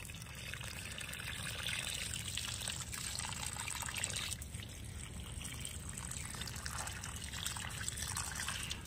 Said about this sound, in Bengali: এবার এগুলোকে আমি জল দিয়ে দেবো, ভরপুর করে জল দিয়ে দেবো।